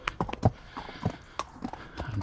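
Horse hooves clip-clop at a steady walking pace, close by, with irregular knocks on a hard surface, on Dartmoor.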